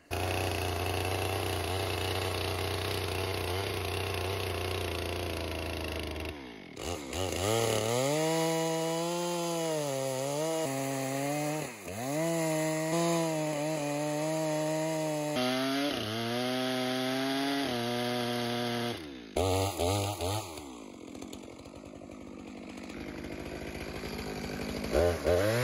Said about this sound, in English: Now I understand why people use Alaska mills and guides when they're doing chainsaw milling.